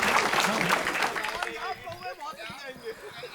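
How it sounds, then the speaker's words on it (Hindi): Audience at a comedy poetry show claps in a dense, lively burst that fades after a couple of seconds, giving way to people talking. "ताली बजाओ जरा"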